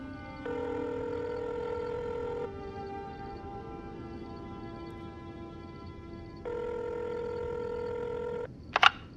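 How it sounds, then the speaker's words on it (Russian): A phone in The Sims game dials the sheriff with a run of sustained electronic keypad tones that change pitch in steps, then a short bright blip at the end, clean and close with no voices. "Звоню шерифу."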